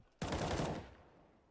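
A single loud wallbang gunshot in an esports shooter video game match at an epic LAN event, a sharp close crack followed by a short decaying tail, with no voices.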